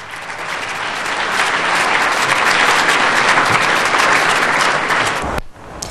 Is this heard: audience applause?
yes